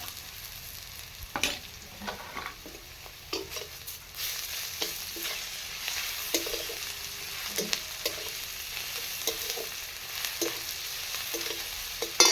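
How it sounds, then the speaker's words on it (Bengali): Ground garlic paste sizzles in a pan alongside fried onions for a Bengali fish-head and taro-stem curry; a low continuous frying hiss with repeated scraping stirs and small clatters, close and quiet, no voices. "রসুনটা বাটা হয়ে গেছে ভাজা হয়ে গেছে"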